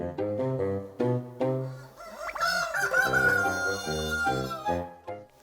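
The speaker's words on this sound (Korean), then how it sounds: "닭이네요. 닭." A rooster on an egg farm crows loudly and close, with a long drawn-out call, surrounded by chickens clucking steadily before and after it.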